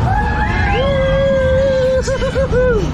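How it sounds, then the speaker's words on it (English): A high, sustained scream with wavering pitch cuts across a steady loud rumble of a funfair ride at a town gala, rising and bending repeatedly over about three seconds amid crowd noise. "Somebody scream!"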